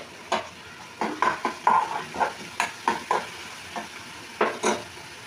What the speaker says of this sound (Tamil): இப்போ கொஞ்சமாக உப்பு சேர்த்து நல்லா வதக்கிக்கலாம்.